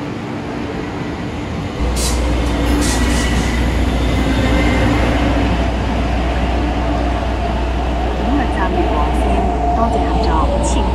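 Train in the Roblox East Rail line video game pulling in and running steadily, a loud low rumble from about two seconds in with rising motor whine, brief high squeals and a few chimes.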